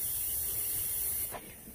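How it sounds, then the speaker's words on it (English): Refrigerant hisses steadily out of a Chevy Trailblazer air conditioning system during discharge, a loud, continuous close-up spray that drops off abruptly near the end. "You gotta discharge your whole system"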